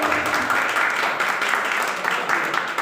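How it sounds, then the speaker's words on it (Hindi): Audience applauding for a teacher at a college freshers' farewell event, a dense, even burst of clapping filling the room without a break. "एक जोरदार तालियां हो जाए हमारे सर के लिए"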